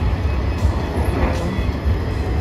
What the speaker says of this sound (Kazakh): Біз трамвайға мініп жатырмыз